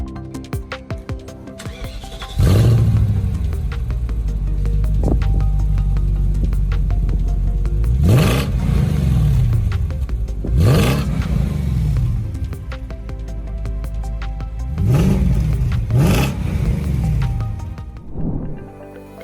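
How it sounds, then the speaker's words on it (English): A V8 engine with stainless steel exhaust and two resonators revs in several deep, bassy bursts, some single and some doubled, over a steady close rumble at idle, with no talking. "The sound is bassy up to 1200 RPM. Then there's a pleasant murmur from the V8."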